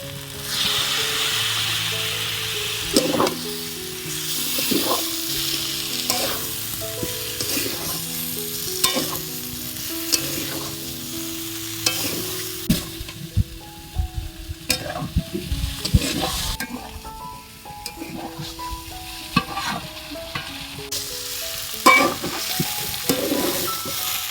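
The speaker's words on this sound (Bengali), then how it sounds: "মশলাটা দেওয়ার পর জল দিয়ে ভালো করে কষিয়ে নিয়েছি" Spice masala frying with a splash of water in a pan, a continuous sizzle broken by repeated scraping stirs and light clinks of the spoon against the metal, close and with no one speaking.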